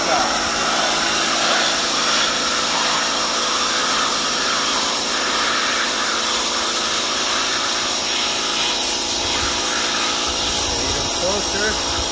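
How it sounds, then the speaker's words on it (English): A home-use power washer sprays steadily while cleaning a Kaloud Lotus hookah part, giving a loud, continuous broadband hiss with no pauses. "Get your good old home use power washer."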